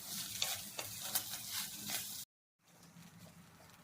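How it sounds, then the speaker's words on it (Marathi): Grated coconut roasting in a pan with onion, garlic and ginger, a steady close sizzle with stirring scrapes that cuts off abruptly, then resumes more softly. "खोबरं पण खरपूस असं भाजून घेऊया."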